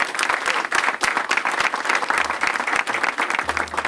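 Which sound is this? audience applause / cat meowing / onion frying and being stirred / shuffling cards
audience applause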